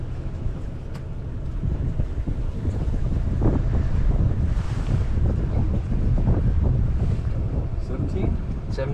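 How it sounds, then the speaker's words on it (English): Strong, steady wind buffets the microphone through its wind cover on a fishing boat out at Chincoteague, Virginia, in a 15 to 20 knot breeze, a continuous loud low rumble with gusty swells and no talk. "I've got the mic with the wind cover on, but it's blowing out here, steady 15 to 20."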